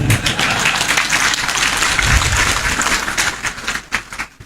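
Audience applause in a lecture hall, many hands clapping loudly and unevenly, holding strong before thinning out and fading into scattered claps near the end.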